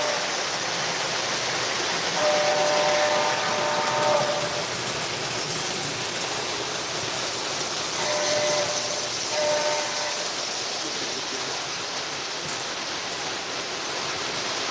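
A model train runs with a steady rumbling hiss, and its horn sounds in two separate toots over the running noise.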